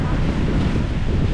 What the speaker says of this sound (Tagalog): lalakas na naman ang hangin, lalaki na naman ang alon